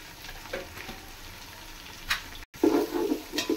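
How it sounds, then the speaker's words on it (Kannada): Chili powder and spices frying in hot oil for biryani, a soft steady sizzle with faint stirring scrapes, briefly cut off then returning louder and bubblier, close and quiet with no voices. "ಇದು ಎಣ್ಣೆನ ಚೆನ್ನಾಗಿ ಫ್ರೈ ಆಗಬೇಕು, ಅವಾಗ ಕಲರ್ ಚೆನ್ನಾಗಿ ಬರುತ್ತೆ"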